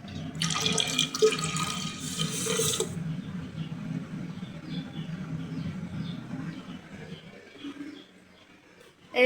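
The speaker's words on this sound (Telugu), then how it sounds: "సో కొన్ని నీళ్ళతో పోస్తాను." Water pours into a cooking pot in a steady rushing stream for a few seconds, then a quieter trickle and faint clinks follow, close by.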